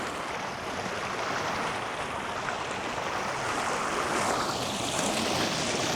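Steady rushing water fills the scene, a broad continuous wash with some wind buffeting, close and loud with no voices.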